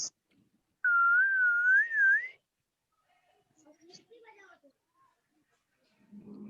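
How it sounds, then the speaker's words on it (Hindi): Someone in a classroom lets out a single clear, wavering whistle for about a second and a half, close and loud, followed by quiet rustling and faint murmur. "बहुत सीटी मार रहा है"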